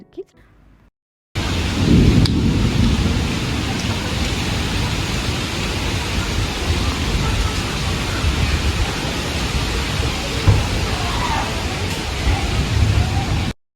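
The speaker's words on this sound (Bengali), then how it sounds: "অনেক দিন পর বৃষ্টি নেমেছে" Heavy rain pours down after a long dry, hot spell, a dense continuous roar that starts abruptly after a short quiet moment and stays loud throughout.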